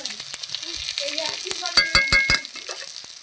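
Ground spice paste of ginger, green chilli, cumin and black pepper is stir-fried in a pan, with sizzling under a series of sharp scraping strokes from a spatula.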